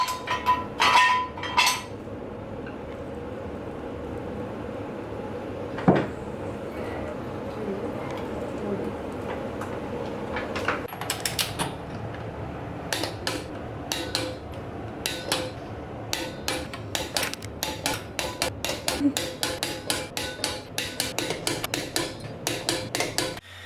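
A torque wrench tightens the lug nuts on an NA Miata wheel in a cross pattern. Repeated sharp ratchet clicks come in clusters, with occasional metallic clinks and a person talking over them.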